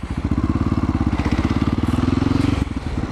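A motorcycle engine in first gear drones loud and close with a fast, even pulsing beat while the rider practices wheelies in a parking lot, the pitch climbing slightly before easing off near the end.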